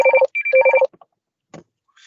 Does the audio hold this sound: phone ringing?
yes